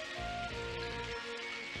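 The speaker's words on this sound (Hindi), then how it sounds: "बारिश शुरू हो गई" Rain begins falling in an animated Doraemon episode, a steady hiss of drops on surfaces with a faint low rumble beneath, fairly close and alone without talk.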